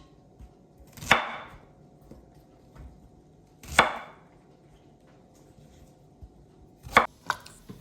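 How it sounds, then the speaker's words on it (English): Knife trimming the edge off an endive on a cutting board: three separate sharp chops spaced a few seconds apart, followed by a quick double tap, close and crisp against quiet. "You need to just cut off this edge."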